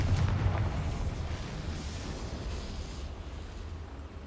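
The Confringo blasting spell in Hogwarts Legacy goes off as a deep booming explosion at the start, its low rumble rolling and slowly fading over several seconds.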